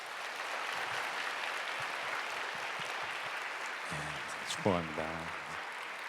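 A congregation at a Sunday youth church service claps in a continuous wash of applause, and a voice briefly speaks over it near the end.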